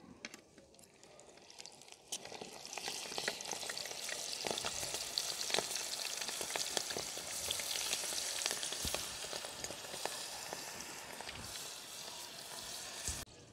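Steady crackling sizzle of red lentils frying in hot oil for mixed nimko, dense and continuous, with sharp pops scattered throughout and no voices.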